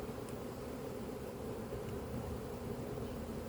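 Honey bees hum in a dense, steady drone around a hive built from a caught swarm, an unbroken buzz close by with no voices over it.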